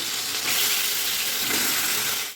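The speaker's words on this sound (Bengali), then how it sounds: "মাছগুলো আমি ভেজে নেব" Bata fish frying in hot oil in a karai, a loud steady sizzle close by that cuts off abruptly at the end.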